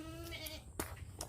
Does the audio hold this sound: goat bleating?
yes